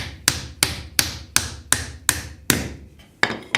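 Hammer driving nails in a home DIY job: about eight sharp, loud, close strikes at a steady rhythm, each ringing briefly before the next blow.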